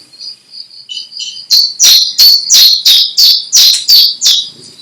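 Willow warbler song during a puppet theatre performance: soft, high chirps build into a loud, close series of about eight bright, repeated notes in steady rhythm, with no voices.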